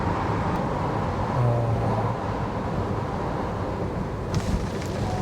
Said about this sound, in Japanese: ちょっとだけ路面の音がするけど、あと風切ってる音ぐらいしか感じない。